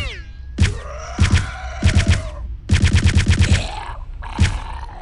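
Gunfire from the video game Return to Castle Wolfenstein, fired in the catacombs level: several loud, repeated bursts of shots with short pauses between them. It includes a longer rapid volley in the middle, and each burst rings with echo.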